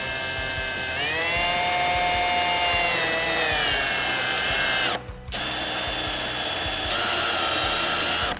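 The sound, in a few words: power drill with step bit drilling holes in plastic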